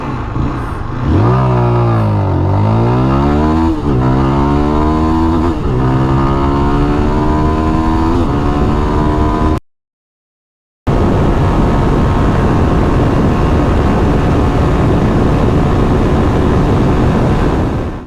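A Zontes GK350 350cc café racer motorcycle accelerates from 0 to 100, its engine climbing through several gears in loud, close revving rises. A brief gap of silence follows, then a steady rushing drone of engine and wind.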